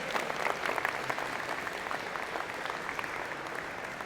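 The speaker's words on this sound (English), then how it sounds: "Please give them a big round of applause, yes." Steady, dense applause from an audience at a university engineering and computer science convocation fills a few seconds, moderately distant and even throughout with no voices.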